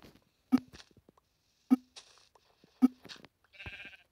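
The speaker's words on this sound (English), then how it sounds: "Sheep." Sheep in Minecraft bleat in short, sharp calls, three distinct bleats spaced about a second apart with softer bleating sounds between them, close and clear against silence.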